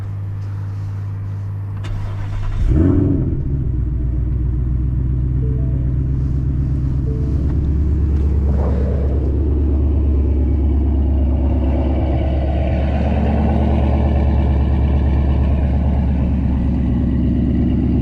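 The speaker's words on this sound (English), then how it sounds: "We'll get a little exhaust sound." A modified 2018 Ford Mustang GT idles with a deep, throaty exhaust rumble after a brief rev, steady and loud up close for the whole stretch.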